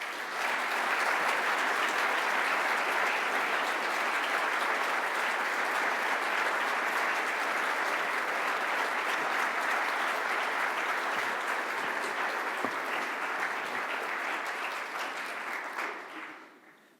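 Sustained, steady applause from a lecture audience welcoming a priest speaker to the Foley Lecture, full and even for about sixteen seconds before tapering off at the end.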